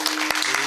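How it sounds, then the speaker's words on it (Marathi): An audience claps during a kirtan, giving a short, dense burst of applause from many hands. "टाळी वाजव"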